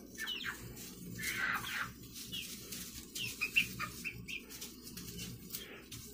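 Chickens and chicks pecking at lettuce, with scattered soft chirps and tweets and brief rustles of movement over a low, busy background murmur.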